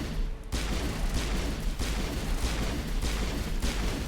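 Sustained gunfire in Mass Effect, dense rapid shots and booming impacts rolling continuously at steady loudness after a brief quieter start.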